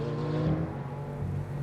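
A Lamborghini Aventador Huber ERA 001 engine pulls hard under acceleration, a loud, continuous low drone with layered harmonics that rises slightly and holds steady throughout, heard close from inside the car.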